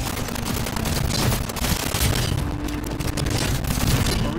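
Dense gunfire in the video game Cyberpunk 2077, including shotgun blasts, rolls on continuously as booming shots and bursts layered over a heavy, loud game soundscape.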